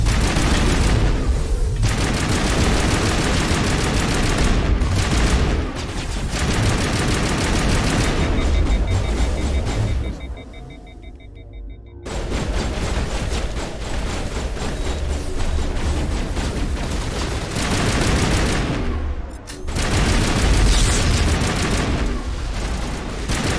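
Sustained gunfire from a firefight in the Mass Effect Legendary Edition game, dense overlapping bursts and booms filling the scene, with a brief lull midway before the shooting resumes loudly.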